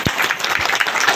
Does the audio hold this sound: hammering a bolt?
no